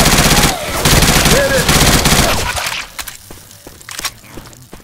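A big gun firing in Left 4 Dead 2, with a loud, dense stream of rapid close shots for about three seconds, then quieter scattered cracks and clatter.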